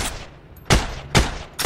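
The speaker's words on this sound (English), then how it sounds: "Track down where gunfire's coming from" Three sharp, loud gunshots in the video game Heroes and Generals ring out in an irregular rhythm, each with a short decaying tail, over a quiet game-like background.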